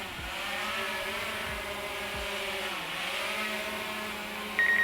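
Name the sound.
DJI Mavic Air 2 drone motors during landing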